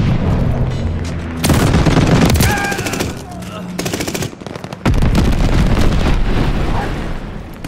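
Bombing run in the Call of Duty Vanguard video game: loud, close bursts of explosions and rapid gunfire with heavy booms that cut in and out in waves, a brief lull midway before another heavy blast.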